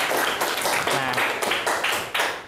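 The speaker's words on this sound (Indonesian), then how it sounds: "Beri tepuk tangan untuk teman kita Areta" Classroom applause for a student, a short burst of clapping from a group of children, fairly loud and close with uneven hand claps overlapping.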